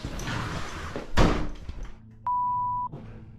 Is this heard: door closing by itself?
yes